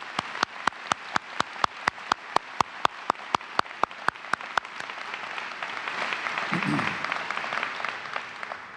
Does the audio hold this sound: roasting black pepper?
no